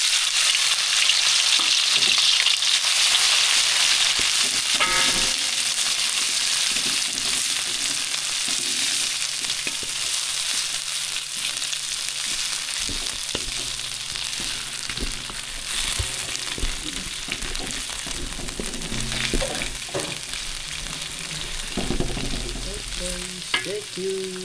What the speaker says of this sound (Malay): minyak dah panas, so kita goreng bahan-bahan dia tadi lah.